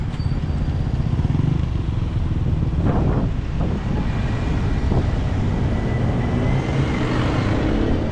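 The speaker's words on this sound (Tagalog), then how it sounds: "Traffic tayo dito." Steady road traffic noise with cars and motorcycles passing close by on a city street, a continuous loud rumble with a few brief swells of passing engines and no talk.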